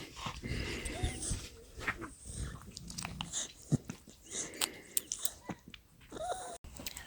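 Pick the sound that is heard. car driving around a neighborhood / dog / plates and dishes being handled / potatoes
dog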